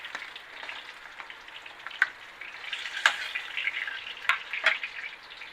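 Chicken fries in a pan with a soft, steady sizzle, punctuated by a few sharp pops and crackles, close but fairly quiet, with no talking.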